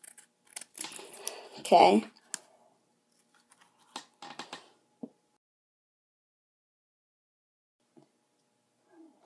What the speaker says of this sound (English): Cut right up against the edge, but don't make sure not to cut the card.